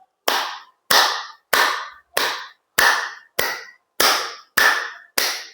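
Sharp single hand claps made as a morning exercise, nine evenly spaced loud claps about half a second apart, each with a short ringing tail and silence between them.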